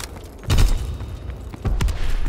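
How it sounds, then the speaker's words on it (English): Heavy artillery shells burst close by in a war video game amid street fighting, two deep booming blasts about a second apart, each trailing off into low rumble and crackle. "Incoming enemy artillery."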